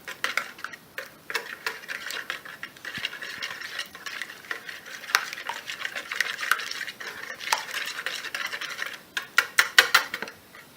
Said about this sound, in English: and then we'll mix this up. Mix that up good.